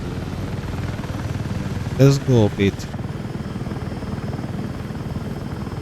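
A helicopter in the video game Battlefield 6 drones steadily with a constant rotor and engine roar throughout, and someone speaks briefly over it partway through.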